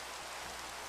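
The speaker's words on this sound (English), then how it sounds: "Oh, there we go, the rain is here." Steady rain falling, a dense even hiss of drops with no distinct individual impacts, continuous and fairly close throughout.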